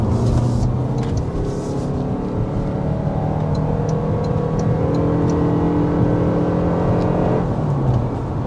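A 2026 Toyota RAV4 Limited accelerates on the road, its engine note rising steadily under a broad wash of road and wind noise, heard from inside the cabin with no talking.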